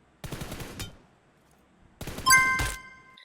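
Two bursts of scoped rifle fire in the BGMI battle royale game, each a rapid string of loud, close shots about half a second long, separated by a pause, the second burst followed by ringing metallic pings.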